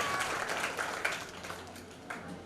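An audience at a Bihar police constable felicitation ceremony in Gopalganj applauds, fairly faint but continuous clapping that swells and thins throughout, with no talk over it.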